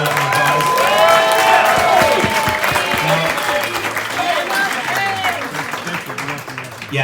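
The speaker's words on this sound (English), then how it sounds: "Everyone give him an applause." Wedding guests applaud the officiant during the reception speeches, a loud burst of crowd clapping and cheering with voices mixed in that gradually thins out.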